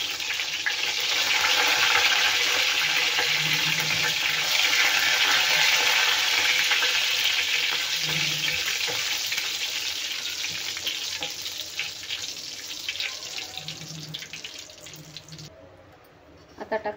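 Curry leaves hitting hot oil for a chutney tempering already holding red chillies: a loud, close, continuous crackling sizzle that slowly eases and cuts off near the end.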